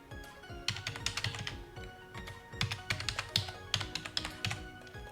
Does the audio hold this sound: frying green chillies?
no